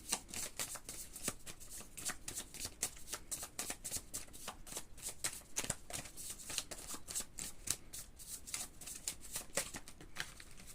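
Tarot deck shuffled continuously up close, a steady fast patter of crisp card slaps and riffles with no talking.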